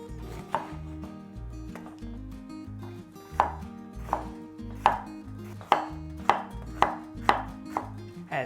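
A knife chops bell peppers on a cutting board with sharp, distinct knocks that come faster and more regular toward the end, near and clear with no talking.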